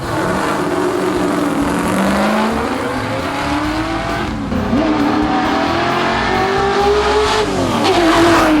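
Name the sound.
classic cars racing on blocked-off city streets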